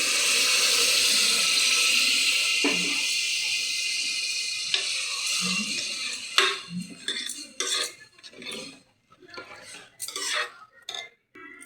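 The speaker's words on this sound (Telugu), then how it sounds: "వాటర్ వేస్తామండి." Water pours steadily into a metal pressure cooker for several seconds, then gives way to scattered clinks and scrapes of utensils against cookware.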